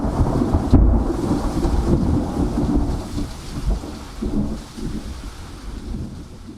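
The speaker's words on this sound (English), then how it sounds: "Now, as the afternoon dwindled, a violent thunderstorm erupted." A violent thunderstorm with steady heavy rain, a sharp close thunder crack near the start followed by rolling rumbles under the continuous downpour.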